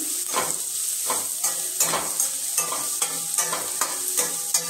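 Kanda poha being stirred in a pan after turmeric and salt go in, a spoon scraping in steady repeated strokes over a soft sizzle, close and clear with no talking.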